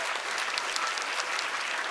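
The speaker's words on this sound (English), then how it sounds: "let's give you a nice round of applause too" At a kindergarten musical evening, an audience gives the high school video club a brief round of applause, a dense, even patter of many hands lasting about two seconds.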